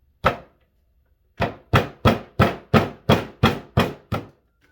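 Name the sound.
hammer chipping rock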